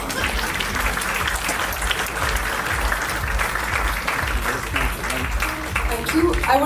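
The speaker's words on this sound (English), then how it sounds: "Let's have a big round of applause for him." A crowd applauds steadily with dense, sustained clapping at a school graduation ceremony, while a voice speaks over it and rises toward the end.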